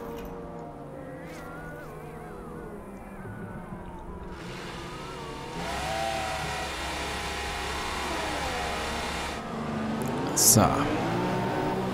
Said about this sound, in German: Da werde ich jetzt mal etwas mehr Gas geben am Boxenausgang